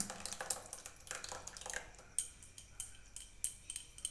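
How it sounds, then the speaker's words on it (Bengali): Yogurt being whisked in a bowl for a yogurt cake: quiet, quick metallic clinks and scrapes in irregular bursts, close and faint, with no talking. "এটা দিয়ে আবার আমি এটা খুব ভালো করে ফেটিয়ে নিচ্ছি"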